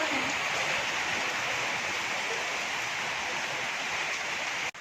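Even, steady rain falling, a constant broadband hiss with no voices, holding level throughout.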